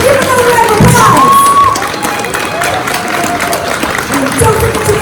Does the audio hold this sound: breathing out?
no